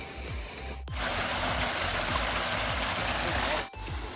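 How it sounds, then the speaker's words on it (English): A small forest waterfall in the dry season gives a steady, close rush of flowing water, broken by two brief sharp dropouts. "we're done at the little waterfall"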